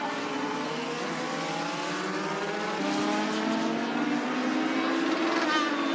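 A race car at a Thursday night oval race runs down the front stretch toward turn one, its engine a steady high drone that rises in pitch, fairly faint and distant, heard under a commentator's talk.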